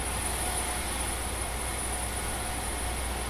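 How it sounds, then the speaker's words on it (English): Huey helicopter in the DCS flight game winding down after landing, a steady loud turbine and rotor drone with a high whine, constant throughout with no voices. "let's go ahead and get the helicopter shut down"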